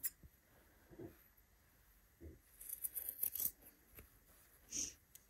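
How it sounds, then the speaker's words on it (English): Scissors trim the fabric seam allowance on a sewn bodice. Several soft, close snips come at irregular intervals against a quiet background. "I'm actually going to trim it down."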